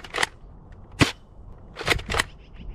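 Adventure Force Nexus Pro X foam dart blaster firing four sharp, snappy shots at uneven intervals, close and clear with quiet between them.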